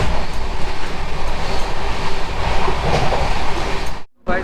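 Kriya Yog Express rolling at about 120 km/h toward Kharagpur Junction, a steady loud rush of wheels and rail noise with clattering from the car, cut by a brief drop near the end.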